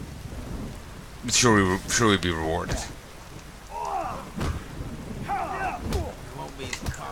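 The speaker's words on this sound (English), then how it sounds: "The storm, damn it." Thunderstorm in the video game The Witcher 3: Wild Hunt, with rain and rumbling under a voice speaking throughout, the rumble swelling louder partway through.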